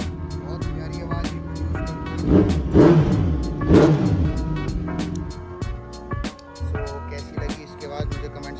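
A loud Kawasaki sport motorcycle with a 4-into-2 exhaust exiting on two sides idles with a steady throb, then blips the throttle twice in quick revs before settling back to a rumbling idle.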